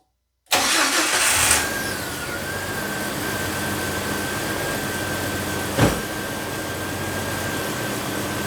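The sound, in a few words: Jeep Wrangler TJ engine running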